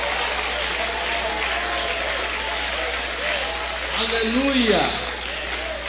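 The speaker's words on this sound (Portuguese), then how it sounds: "Aplausos para Ele, porque Ele merece. Batam palmas e glorifiquem ao Senhor." A congregation claps in a Portuguese-language church service, a continuous patter of many hands under a voice, with a louder sung or shouted phrase rising near the end.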